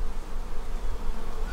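Honeybees hum steadily inside a beehive around a newly introduced queen, a close, continuous buzzing drone with no voices.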